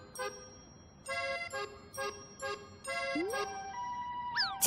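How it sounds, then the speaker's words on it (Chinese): A cartoon ambulance siren from a children's animated show sounds as bright synthetic tones pulsing in short bursts, then sliding into rising and falling wails at the end, with no talk. "救护车"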